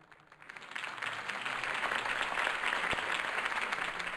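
A city hall crowd in the Batman Telltale video game breaking into applause, swelling quickly from quiet into steady dense clapping that holds loud and even to the end.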